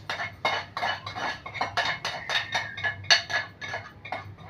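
Chopped onions are stirred into freshly ground adai dosa batter, and the spoon scrapes and clinks against the bowl in quick, rhythmic strokes. The sound is close and fairly soft, with no one talking.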